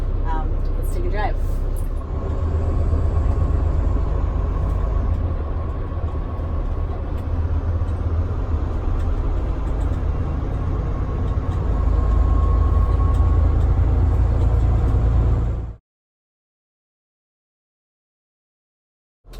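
A 2019 Volvo VNR truck with dynamic steering cruising down the road, heard from the cab as a loud, continuous low engine and road drone with a faint whine, ending abruptly in silence.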